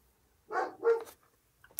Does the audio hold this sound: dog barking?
yes